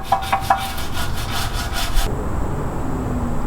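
Grime is scrubbed off a van's swing arm in quick back-and-forth strokes, close and rasping, with a brisk rhythm that eases into steadier rubbing partway through.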